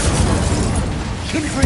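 A short, dense fiery burst from an Incendio fire spell in the Hogwarts Legacy video game roars loudly and evenly for under two seconds, amid spell-combat gameplay.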